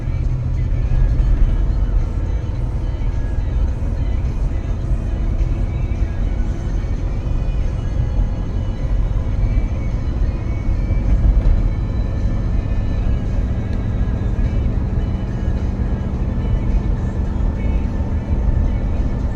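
Steady low engine rumble and road noise inside a 2003 Ford Expedition full-size SUV while it drives uphill, a constant drone with little variation throughout.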